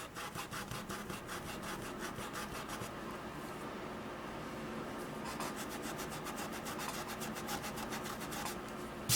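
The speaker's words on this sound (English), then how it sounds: "You're going to rub right up and down the middle of your candle." A brush rubs paint steadily up and down the middle of a painted Christmas candle, giving a close, continuous scratchy rasp with a rhythmic back-and-forth pulse that pauses briefly partway through.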